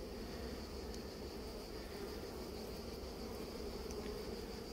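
Honeybees swarming over a beehive frame of nectar, bee bread and pollen during a hive inspection outdoors give off a steady, continuous buzzing hum that stays even throughout, with no talking.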